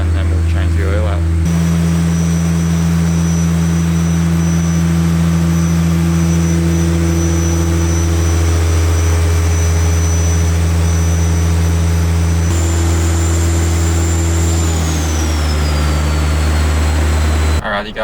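A built Nissan S15 engine pulls hard on a dyno for a long fuel run, a loud steady drone that holds one pitch, then eases off and drops near the end. No one speaks over it.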